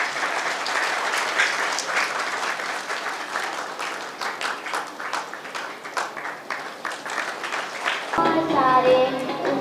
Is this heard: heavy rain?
no